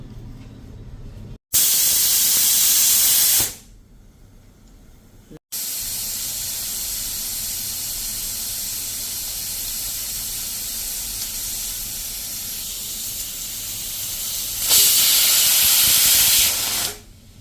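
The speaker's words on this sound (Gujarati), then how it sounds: "બે વિસલ થઈ ગઈ છે અને ગેસને બંધ કરી દેશું" Pressure cooker brewing tea on a gas stove hisses out loud steam whistles in long bursts, one near the start and another near the end, with a steady softer hiss between and no talk.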